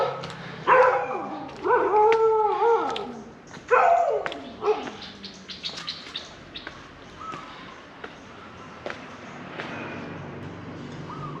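Several street dogs bark and yip in a burst, some whining, then quieter scattered yelps over background noise outdoors near a Thai temple in Cha-am.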